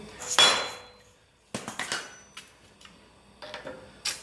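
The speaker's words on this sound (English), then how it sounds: "start off with a rubber mallet or a dead blow hammer right here just to try to break it free" A few separate knocks from a rubber mallet striking a rusted part on a Jeep XJ Cherokee, one louder blow followed by several duller taps with quiet gaps between.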